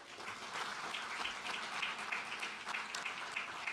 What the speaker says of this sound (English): Big round of applause for Firefly.